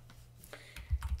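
Short burst of computer keyboard typing, a quick run of close, crisp key clicks ending in a few heavier keystrokes, entering a command on a Linux Ubuntu machine.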